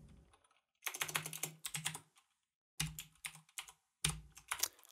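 Typing C# code on a computer keyboard: quick bursts of close, crisp key clicks separated by brief pauses, with no talking.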